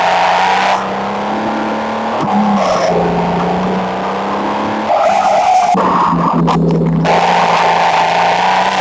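A car engine in the video game Demolition Derby 2 revs and drones steadily on a test drive, its pitch shifting with acceleration, and brief tire squeals cut in along the way.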